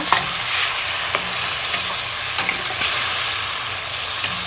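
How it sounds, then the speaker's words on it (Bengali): Fish head is sautéed with spices in an oily pan, a loud, constant sizzle and hiss punctuated by several sharp clicks of a spatula against the pan. "মশলাটা আমার প্রায় কষানো হয়ে গেল এবার মাছের থেকে একটু কষে নেব"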